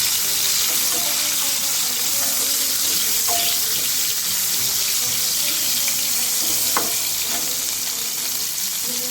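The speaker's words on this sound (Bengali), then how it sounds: "ক্যাপসিকামটা ভেজে নিচ্ছি 2 মিনিটের মতো।" Capsicum frying in oil in a pan for begun bahar, a loud, dense, continuous sizzle close by, with occasional stirring scrapes and clinks.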